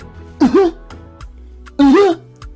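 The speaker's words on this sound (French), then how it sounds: "peut-être tu peux tousser" Two short, forceful throat-clearing coughs, close and distinct, separated by a pause of over a second.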